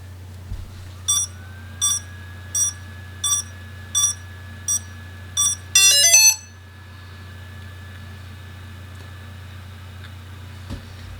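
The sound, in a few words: Xiaomi Fimi X8 SE drone beeping while powering on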